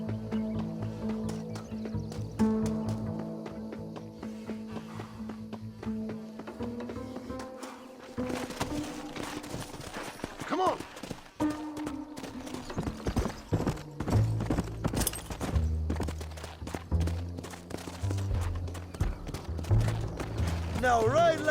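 Horses gallop in Red Dead Redemption, a steady clip-clop of hooves running beneath music, with occasional whinnies and a voice talking over the ride.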